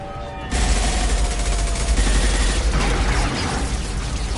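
Sustained, dense gunfire fills a Mass Effect Legendary Edition firefight, loud and continuous after a brief quieter lead-in, with booming low rumble underneath.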